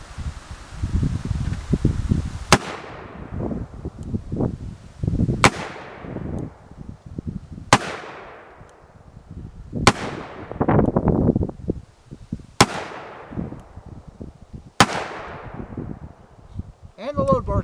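An 1858 blackpowder revolver loaded with long tapered paper cartridges fires six sharp, loud shots spaced a few seconds apart, each cracking out and ringing into a fading echo, with outdoor rustle and shuffling in between.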